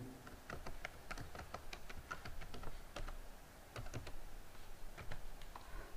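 Someone types a password on a computer keyboard while creating a Fiverr account, producing a close, quick run of crisp key clicks in uneven bursts, with a short pause partway and no speech.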